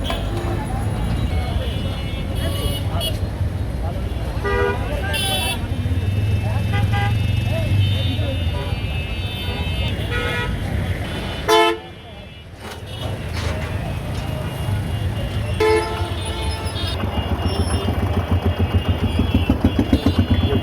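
A truck rolls into the crowded main town of Kaliganj near the bus stand, its engine rumbling under steady street traffic with repeated horn toots from surrounding vehicles and a voice talking over the scene.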